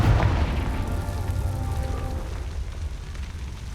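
A Confringo fire spell explodes in the video game Hogwarts Legacy, a deep booming blast that starts loud and fades into a long rumbling roar with no speech.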